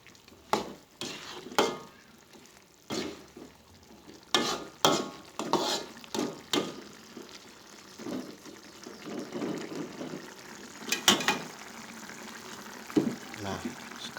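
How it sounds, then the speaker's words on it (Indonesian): Beef stew (semur daging sapi) being stirred in a pan, with a spoon scraping and knocking in irregular strokes over a soft simmering sizzle, close by. "Nah, kita aduk lagi."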